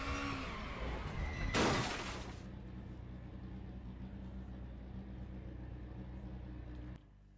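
A race car in the RaceRoom racing game spins out, its tires skidding and screeching loudly over a steady engine drone for several seconds before the sound cuts off.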